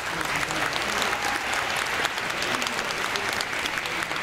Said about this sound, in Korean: 우리 후배분들 좀 한번 박수 한번 쳐주세요